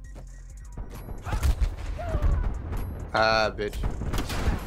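Shotgun blasts and other gunfire in the Black Ops Cold War video game, several sharp bursts mixed with game effects under a man's excited, swearing commentary.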